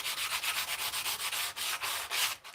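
Steady hand sanding of a workpiece with gloved hands, a continuous close rasping rub with regular back-and-forth strokes and a few brief pauses.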